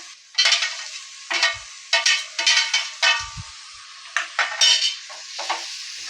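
Chicken curry masala with salt being stir-fried in a pan for Bengali chicken kosha, a spatula scraping and clinking against the metal in uneven strokes over a low, steady sizzle.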